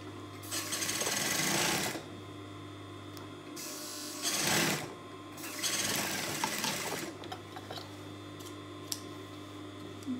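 A sewing machine stitches the fabric of a sweetheart A-line dress in three close, rapid whirring runs separated by quiet pauses, over a steady low motor hum.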